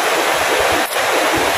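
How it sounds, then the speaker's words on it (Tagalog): River water rushing steadily over rocks in a shallow stretch in Nagcarlan–Liliw, Laguna, a loud continuous broadband roar with no pauses and no voices. "Ganda ng ilog, guys."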